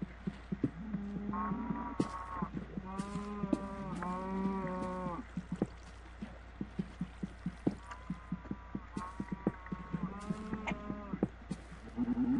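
Blocky Minecraft cows moo repeatedly in drawn-out, overlapping calls, some rising and wavering, over a steady low hum and a rapid series of soft clicking footsteps; no talking.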